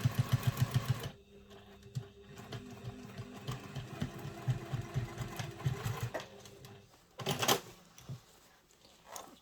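A sewing machine runs a seam on a travel satchel in short, rapid stitching bursts that start and stop, with a mechanical whir between pauses and no voices.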